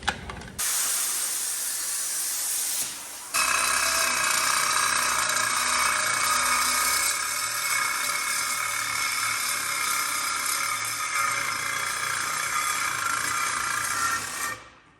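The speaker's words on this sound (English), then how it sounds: "It starts blowing the sparks all the way through. That's when you know it's cutting." A cutting torch slices through metal while building a bigwheel, throwing sparks in a steady, loud roaring hiss that starts abruptly, pauses briefly, then runs continuously for about eleven seconds before cutting off.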